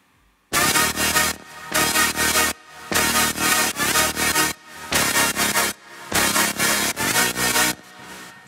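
Layered synth leads from an EDM track, high leads stacked over a mid-range bass layer and sidechained to the kick, playing loud bright chopped phrases in repeated bursts separated by short gaps.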